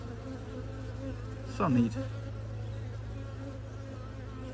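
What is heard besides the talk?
honeybees buzzing at a Flow Hive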